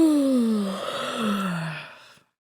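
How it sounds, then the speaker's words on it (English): A single person's drawn-out yawn, close and alone, with a falling voiced groan that breaks and trails into a second sighing slide before stopping abruptly. "Just hearing someone yawn can do it."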